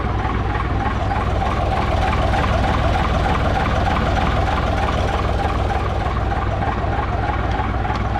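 A Gardner diesel engine, swapped from a 1961 unit to a 1979 one, runs at a steady idle with a continuous low rumble and fine mechanical chatter, close and loud, with no voices.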